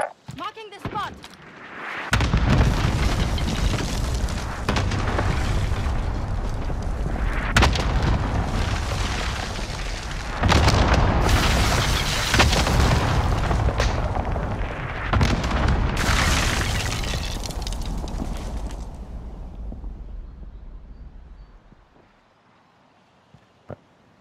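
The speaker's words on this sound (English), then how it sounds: "Enemy cluster strike!" Cluster strike explosions in Call of Duty hit as a dense, loud barrage of booming blasts rolling on for about twenty seconds, up close and heavy, before dying away abruptly.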